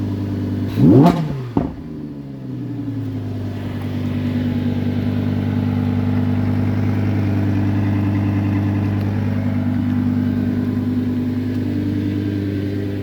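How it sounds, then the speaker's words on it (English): A car engine in performance mode revs sharply twice near the start, then settles into a loud, steady, deep idle that drones on close by with no talking. "So you can hear it, the car now revving."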